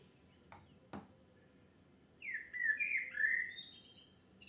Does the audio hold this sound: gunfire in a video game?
no